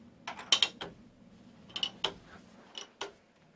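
A quilting frame is rolled up and locked in place, giving several sharp ratcheting clicks and creaks in two short bursts with a quiet gap between them.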